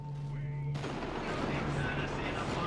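A rift tear ability goes off in the video game Dawn of War 2, a sudden burst that breaks over a faint tonal hum and swells into a sustained, rumbling wash of battle noise.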